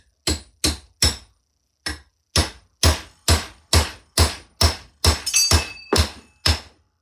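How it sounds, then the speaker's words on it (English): Sharp metallic brass hammer taps strike in a steady series, about a dozen blows, close and crisp with short pauses between. "I use a brass hammer"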